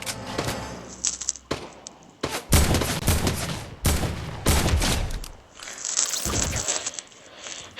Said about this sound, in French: Je déteste rater mes balles de snipe.